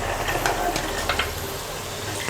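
Diced potatoes, carrots, beans and green peas sautéing in oil, a moderate sizzle broken by several quick scrapes and clinks of a spoon stirring the vegetables.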